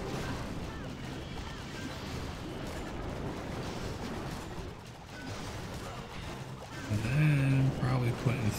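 Heavy artillery in a Clash of Clans-style base attack rumbles and booms continuously, with a louder cluster of impacts and chimes toward the end.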